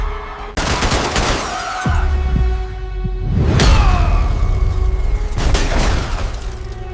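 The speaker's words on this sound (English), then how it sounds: "The first gunshot shattered the silence of the luxurious Crystal Crown Hotel in Manhattan, New York." Sharp gunshots crack out several times in quick succession in a luxury hotel, mixed with whooshes and the crash of shattering glass, loud and close.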